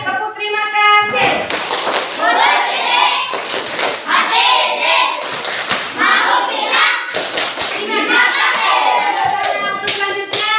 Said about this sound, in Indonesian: Tepuk terima kasih.